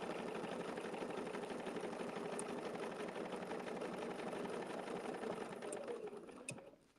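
An embroidery machine stitches tiny stitches in a steady, rapid mechanical whir with a fast needle rhythm, running alone at close range before winding down at the end.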